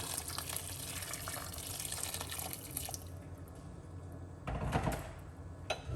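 Hot water from a kettle pours into a pot of chicken soup, a faint, steady splashing stream that swells briefly near the end.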